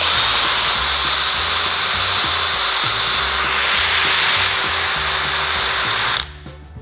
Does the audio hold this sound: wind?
no